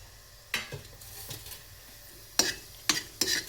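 Whole peppercorns, cumin and coriander seeds stirred in hot frying oil in a pan for a dill leaf rasam, giving several short scraping, sizzling bursts over a faint steady background.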